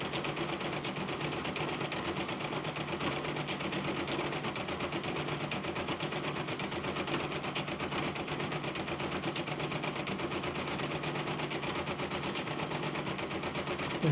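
A Brother PE-770 embroidery machine stitching a custom design, a steady close mechanical whir with a fast continuous needle rhythm running throughout, no voices.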